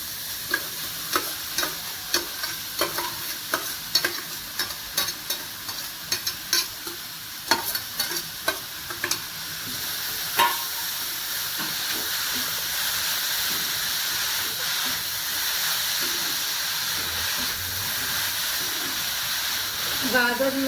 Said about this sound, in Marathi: आता आपण त्याच कढईमध्ये गाजर घालूया।